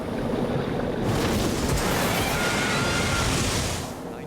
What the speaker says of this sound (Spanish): lo golpean olas terribles y violentas